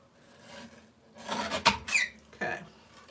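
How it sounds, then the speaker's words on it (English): A small paper trimmer slicing the edges off cardstock at a crafting table, heard as a few brief close rasping, scraping strokes with a short pause between them. "grab my little baby trimmer. Take off those edges"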